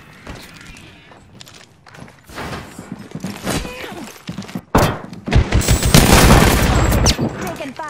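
Gunfire during a battle royale video game fight: scattered shots and thumps build into dense, loud bursts of automatic fire and impacts near the end, with a voice speaking over the action.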